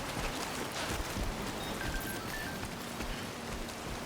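Steady timefall rain in the video game Death Stranding 2, a soft continuous hiss of drops pattering on surfaces throughout, even and unbroken with no voices.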